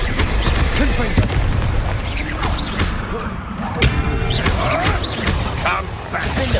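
Confringo spell blasts in Hogwarts Legacy, dense repeated booming impacts and crashes layered with whooshing magic effects, loud and continuous, with a voice calling out spells over the action.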